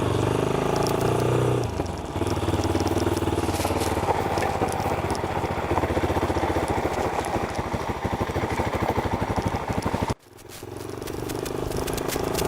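A Mash 400 motorcycle ridden off-road, its engine droning close and loud with rapid rhythmic thumping, rattling over rough ground, briefly cutting out before picking back up.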